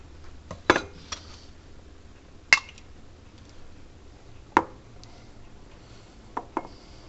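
A spoon scooping improvised mac and cheese from a dish, giving a handful of sharp, isolated metallic clinks spaced a second or two apart against a quiet kitchen background.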